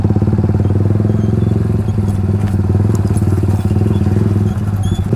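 A petrol scooter engine revs steadily with the throttle held open, a loud, close, continuous buzzing drone with light rattling on top, on a roadside in India.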